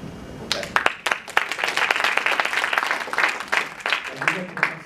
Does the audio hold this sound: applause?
yes